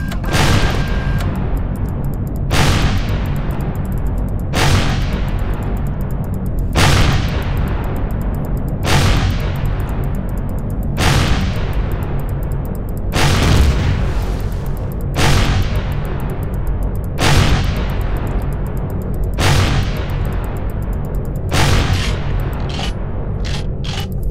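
Rocket explosions in the sci-fi survival game Empyrion Galactic Survival, a rapid series of about a dozen sharp, loud blasts at steady two-second intervals over a continuous low rumble.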